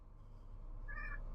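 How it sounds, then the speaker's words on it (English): A cat gives one short, faint meow partway through, heard against a quiet low hum in an indoor room, with no talking. "Oh, you hear meowing."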